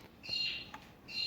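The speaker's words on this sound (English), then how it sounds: "Excuse the birds." Birds chirp and squawk outdoors in a short, moderately loud burst of high calls over a soft background hiss, with no voices.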